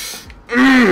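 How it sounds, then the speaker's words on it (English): One person clears their throat with a rough rasp, then a voiced, throaty vocal sound follows right after, close to the mic. "Gotta clear my throat up."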